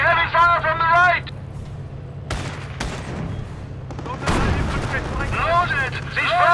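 Tank cannon blasts and gunfire from the World War II strategy game Company of Heroes, Villers-Bocage battle: several sharp, heavy booms over a constant engine rumble, with shouted soldier voice lines at the start and end.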